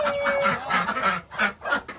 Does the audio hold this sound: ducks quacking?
yes